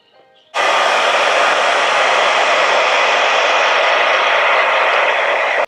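Hair dryer fitted with a diffuser switches on after a short quiet moment and runs as a loud, steady, close-up whoosh drying a curly wig.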